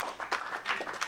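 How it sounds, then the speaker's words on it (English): Audience applause for a pastor at a production team day gathering, a short burst of scattered hand claps at moderate volume with no talk over it. "give him a round of applause"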